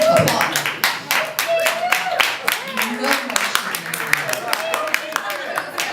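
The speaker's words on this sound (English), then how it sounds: "Applaud." Scattered, uneven claps from a small audience break out over a talking voice, with sharp individual hand smacks standing out now and then.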